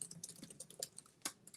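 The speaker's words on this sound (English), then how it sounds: "I'm like, what are you typing?" Quiet, rapid typing on a computer keyboard, a faint, irregular patter of light key clicks with a few sharper taps.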